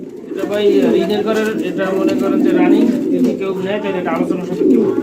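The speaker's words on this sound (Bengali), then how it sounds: "এখানে চার পিস টোটাল কবুতর দেখালাম" Pigeons coo at a pigeon market with a close, continuous, throaty burble while someone talks over them.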